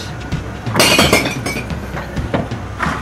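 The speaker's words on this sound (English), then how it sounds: "If you love the sound of breaking glass," Glass bottles smash and clink at a recycling centre, a burst of shattering followed by several sharper tinkling impacts and rattling shards, loud and close, with no voices.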